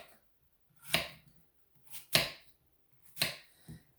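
A knife chops through an apple on a cutting board, cutting it into bite-sized pieces in a kitchen. Sharp, close cuts come singly about once a second, with quiet gaps between them and no talk.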